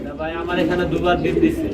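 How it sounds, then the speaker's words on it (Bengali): A breeding pair of magpie pigeons, a larger male and a female, coo softly and continuously at close range, with low murmuring voices nearby. "বড়টা হচ্ছে নর কবুতর তাই না ভাই আর মোটামুটি এটা হচ্ছে মাদি কবুতর"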